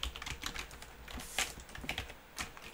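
Rapid typing on a fairly new computer keyboard, a close run of uneven crisp key clicks with occasional louder strokes, alone without talk.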